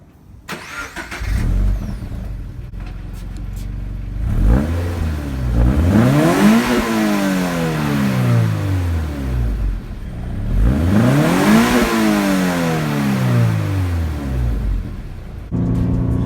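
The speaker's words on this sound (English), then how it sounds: "So now let's start her up and see how it revs." A Subaru BRZ with a 2-liter flat-four engine and manual transmission cranks and fires, settles into idle, then revs up twice in rising and falling sweeps, loud and close, with a brief blip near the end.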